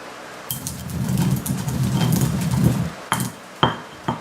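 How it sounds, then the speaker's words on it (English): Peppercorns ground coarse in a mortar and pestle for steak au poivre: a steady gritty crushing rasp for about two and a half seconds, then a few sharp separate clinks and knocks, close and fairly loud. "the mortar and pestle, which was invented thousands of years ago. So what I'm going to do is just grind these up so it's nice and coarse"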